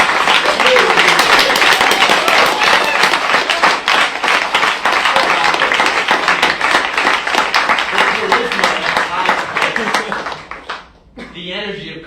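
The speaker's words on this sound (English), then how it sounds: "Can we get another round of applause for our tremendous..." An audience at a Fresno State speech event applauds loudly in a sustained, dense wave of clapping that thins and fades near the end, followed by a brief voice.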